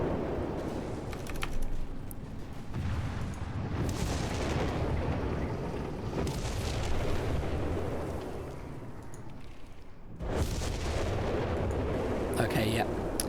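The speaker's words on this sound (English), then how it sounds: "Artillery is going on to those AT guns." Artillery shelling anti-tank guns in a real-time strategy game, a continuous rumble of booms and blasts with a brief lull before another heavy burst; a commentator's voice is faintly present.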